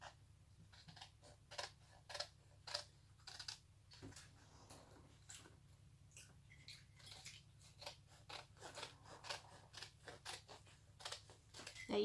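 Scissors snip through excess paper while trimming a handmade envelope for a junk journal, giving a string of quiet, close, irregular cuts over a low steady hum.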